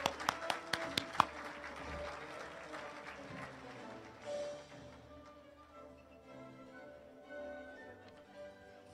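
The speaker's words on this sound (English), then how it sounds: "Please give a warm welcome and a round of applause for Major Herndon." Audience at the Iron Dog racers' drawing banquet and Hall of Fame induction applauding Major Selena Herndon: a few sharp, separate claps up front, then a softer smattering that fades into room murmur.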